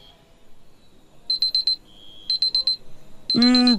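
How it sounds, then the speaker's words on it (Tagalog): An electronic alarm clock beeps in quick bursts of four at a high, shrill pitch, repeating several times at close range. A loud voice then breaks in at the end. "Gagaga naman ang ingay ng alarm mo eh!"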